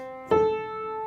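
A major sixth interval sounds as a single clear tonal strike, two sustained pitches ringing together and holding steadily after a sharp onset.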